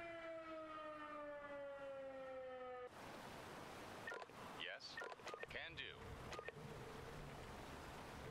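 A civil defense style alert siren sounds loudly for the first three seconds with a steady wailing tone, followed by busy vehicle and street noise, with people talking under the sound.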